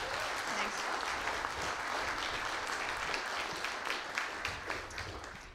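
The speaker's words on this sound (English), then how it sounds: "give a big round of applause for our construction teams." Sustained audience applause fills the air at an outdoor park ribbon cutting, a dense, steady wash of many hands clapping that tapers slightly toward the end.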